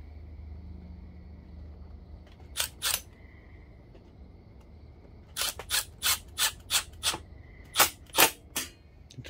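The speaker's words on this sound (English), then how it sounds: "now I'm gonna tighten down my two clamps." Air filter clamps on a Suzuki TS125 motorcycle are tightened with a tool, giving sharp close clicking bursts: a pair at first, then a rapid run of about eight evenly spaced clicks over a low background hum.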